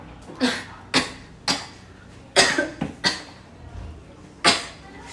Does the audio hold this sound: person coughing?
yes